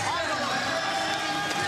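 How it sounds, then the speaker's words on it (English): A gymnastics arena crowd at a world championships event final gives a steady murmur of oohs and ahs, broad and continuous, with a faint voice running through it. "I love the oohs and ahs of the crowd."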